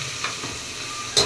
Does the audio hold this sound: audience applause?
no